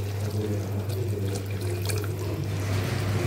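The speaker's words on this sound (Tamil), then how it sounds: "இது கூட கரைச்சி வச்ச புளியும் ஊற்றிக்கலாம்." Tamarind water being poured into a simmering pan of fish curry, a continuous close liquid splashing and bubbling over a low steady hum, no talking.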